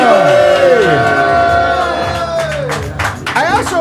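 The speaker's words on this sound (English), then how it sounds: "We got a big crowd." Big crowd shouting, whooping and cheering at a bar during an NBA championship celebration for the Denver Nuggets, loud and dense, with rising and falling voices throughout.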